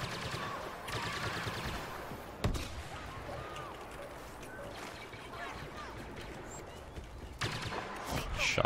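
Rapid bursts of blaster gunfire from a Star Wars Battlefront (2015) Drop Zone match, dense and continuous with a few sharper louder shots, mixed with voices talking over the action.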